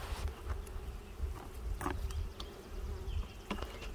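Honey bees buzz around a newly installed hive outdoors, a dense, continuous hum with individual bees droning past close by and no talking.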